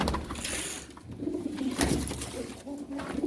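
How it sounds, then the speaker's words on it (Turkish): Pigeons coo in soft, low, repeated warbling calls, with a few rustles and light knocks in the background. "Şuradan bir tane daha kuş atayım."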